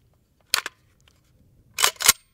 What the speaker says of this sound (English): we start off by painting the bolt and then just hand cycling five rounds to the gun